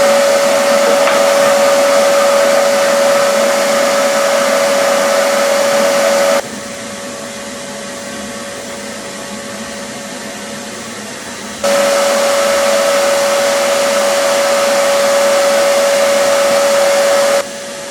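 A homemade vacuum former runs on heated plastic with a steady loud motor drone and a constant whine, briefly dropping quieter midway before resuming at full strength.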